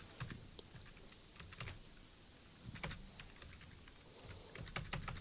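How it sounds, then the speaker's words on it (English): Typing on a computer keyboard while entering a destination: quick irregular key clicks in bursts, close and fairly quiet, with no voices. "I'm typing stuff in."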